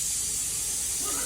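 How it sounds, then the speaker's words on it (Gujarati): A pressure cooker vents steam in a home kitchen, a loud, steady, airy hiss that lasts briefly with no talking over it. "ઓલી ફાલતુ માણસ નું ફાલતુ કુકર વાગા વાગ થયું છે"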